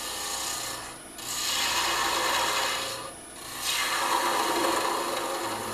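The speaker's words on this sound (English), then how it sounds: "I'm using the spindle gouge like a skew" Spindle gouge cutting a long, thin wooden finial on a lathe, a 3/8 inch fingernail-grind gouge used like a skew; a steady broadband rasping hiss with two brief dips as the tool lifts, close and continuous with no talk.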